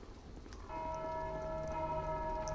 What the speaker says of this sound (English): Ring that fucking bell.